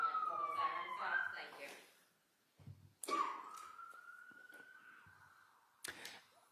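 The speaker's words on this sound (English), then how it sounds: "If you could just wait 1 moment while the siren stops" A passing siren outside a courtroom, wailing with slowly falling and rising tones, fairly faint and distant, with a brief pause and bumps of room noise.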